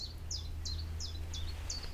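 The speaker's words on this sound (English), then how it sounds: "a chiff-chaff. Just landed on that telephone line." A chiffchaff calls from a telephone line in the Lancashire countryside, six thin, evenly spaced chirps repeating about every third of a second, clear over a low steady background hum.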